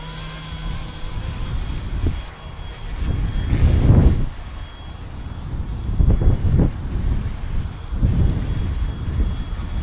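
Gusty wind roars and buffets the microphone in surges beside an outdoor pool, loudest around a few strong blasts, with a steady whoosh underneath.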